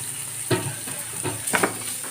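Mutton sizzles and fries in chili powder in a hot pan, a steady close hiss with a few soft stirring scrapes and pops rising above it, no speech.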